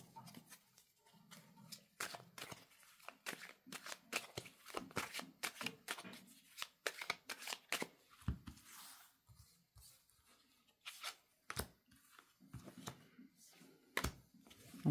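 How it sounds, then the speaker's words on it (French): Tarot cards being reshuffled by hand, a run of quiet riffling and sliding bursts in an irregular rhythm, close and soft, with no speech. "je vais les remettre comme il faut et remélanger un petit peu"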